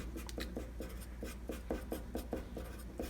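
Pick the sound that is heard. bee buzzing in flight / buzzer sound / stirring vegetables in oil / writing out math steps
writing out math steps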